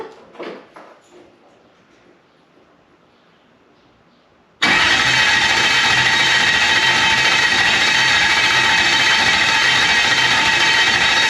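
Toyota 1UZ V8 swapped into a Corolla cranks and fires up abruptly after a quiet pause, then settles into a loud, rough, continuous idle close by; brief talk comes before it.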